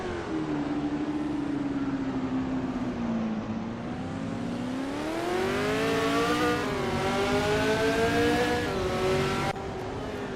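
Vintage 1968 and 1969 race cars, among them a 1969 Legrand Mark 11, roar through a racing video game, their engines rising and falling in pitch as they accelerate and shift, loud and continuous with no talk.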